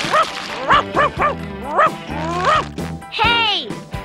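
A cartoon dog barks, yips and whimpers in a quick series of short yaps that ends in a higher whine, close and loud, mixed in with cartoon dialogue.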